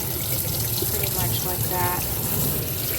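Hot water runs steadily from a tap while a Shark vacuum cleaner is being cleaned, a continuous close splashing flow with a voice speaking briefly over it.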